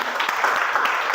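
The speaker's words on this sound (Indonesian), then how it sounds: "tepuk tangan untuk si Jesli" A classroom of students claps together, brisk and dense, filling the room steadily for about a second.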